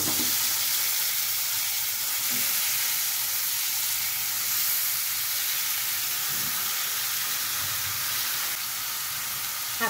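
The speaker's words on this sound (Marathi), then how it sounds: "धुतलेले चिकन टाकून घेऊया।" Washed chicken pieces sizzling in hot oil with browned onion and turmeric, a steady loud hissing sizzle close by, with faint stirring knocks now and then.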